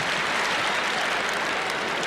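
A large arena crowd at a 1986 collegiate wrestling dual meet between Iowa and Iowa State applauds, a dense, continuous roar of clapping and cheering, steady and loud with no break.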